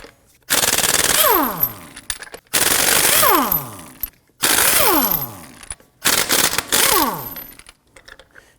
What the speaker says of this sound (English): Using a 19mm socket, we're going to loosen and remove our lug nuts.